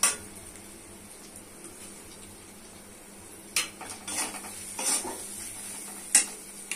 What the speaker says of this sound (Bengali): মশলাকে ভালো করে কষে দিতে হবে